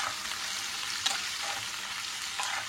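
Chopped onions fry steadily in hot oil for a rainy-day chicken khichuri, a close, even crackling sizzle with a couple of small clicks of a stirring spoon.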